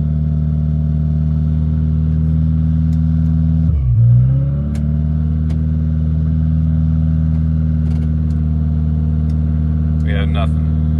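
A 1992 Honda Civic Si with a swapped D16Z6 engine idles steadily after starting, a close, loud low hum that dips briefly mid-way before settling back, with a few faint clicks and a short chirp near the end.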